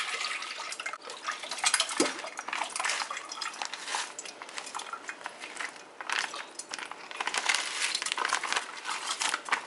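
Frozen passion fruit pulp pours from a 14-ounce pouch in a home kitchen, a soft continuous wet glugging and splashing with faint clinks of a pot, close and quiet with no talk.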